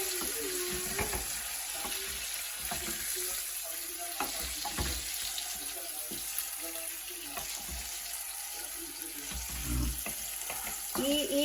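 Beef rump steak sizzling in oil in a pan, a continuous frying hiss with repeated scraping and stirring clatter from a utensil, and a faint voice in the background.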